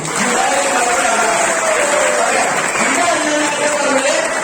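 An audience at a business seminar breaks into steady, dense clapping that holds at a constant loud level throughout, with voices calling out faintly beneath it.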